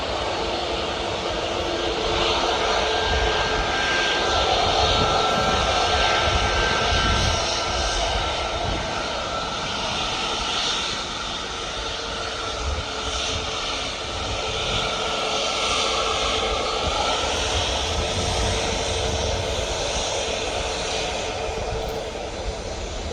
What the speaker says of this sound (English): as this aircraft will, when she goes down the runway, the wings will flex